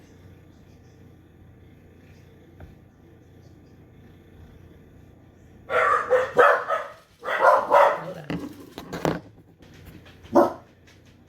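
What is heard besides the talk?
dog barking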